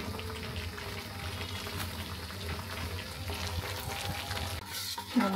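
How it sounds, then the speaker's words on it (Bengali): Boiled potatoes with chili powder being sautéed in a pan for a spicy curry, a continuous soft sizzle and stirring scrape under a faint background, ending in a louder clatter. "মরিচের গুঁড়া দিয়ে আবার কিছুক্ষণ কষায় নেব"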